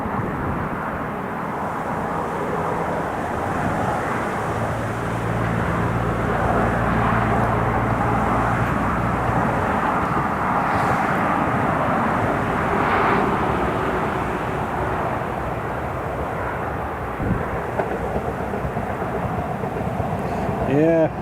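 Italian Air Force C-27J transport aircraft landing at Newcastle International Airport, a loud, sustained turboprop roar and rumble filling the whole stretch, steady with slight swells, heard from a distance outdoors.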